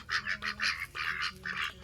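Khaki Campbell ducks splashing in muddy water give a run of loud, rasping quacks and honks in quick bursts, close by and with no voices over them.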